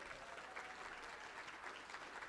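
An audience at a Rotary Club event applauds steadily, a dense, even wash of clapping heard at a distance and fairly quiet throughout.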